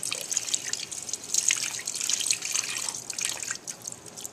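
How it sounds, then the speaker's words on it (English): Water pouring and dripping steadily as Chemi Pure charcoal filter media is rinsed, with a close, continuous trickle and splashing while setting up a Trout in the Classroom aquarium filter. "rinsing the Chemi Pure, the charcoal. Rinse it really well."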